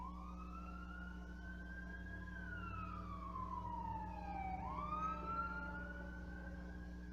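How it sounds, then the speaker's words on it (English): Faint ambulance siren wailing as it passes by in the distance, its pitch sweeping up and down and dipping as it goes past, over a steady low hum indoors. "I don't know if you heard that siren go by."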